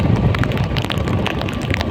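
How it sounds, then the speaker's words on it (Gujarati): Heavy rain in Alang with wind, a dense continuous hiss of drops pounding surfaces and gusty rumble close to the microphone, loud and unbroken. "હા ભાઈ ફૂલ વરસાદ થઈ ગયો છે અહીંયા"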